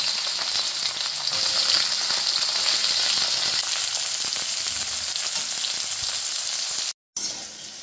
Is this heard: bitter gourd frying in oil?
yes